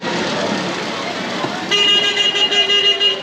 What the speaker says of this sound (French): c'est les taxis qui klaxonnent pour annoncer qu'ils peuvent prendre quelqu'un